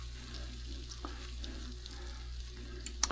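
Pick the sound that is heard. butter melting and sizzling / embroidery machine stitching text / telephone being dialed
butter melting and sizzling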